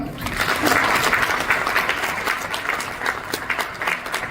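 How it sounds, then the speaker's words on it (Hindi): An audience at a success-journey seminar with Crown Ambassador RK Sharma bursts into loud, sustained applause for Professor Vasupal, thick continuous clapping close by with a few brief voices. "आप प्रोफेसर वासुपाल जी के लिए एक जोरदार ताली।"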